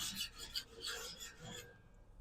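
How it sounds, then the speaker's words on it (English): A spatula rasps over ash inside a Kamado Joe grill's ceramic interior in quick repeated faint scrapes, roughly a dozen strokes, then stops into near silence. "Got a little bit of ash in the middle here. which I'm going to scrape off"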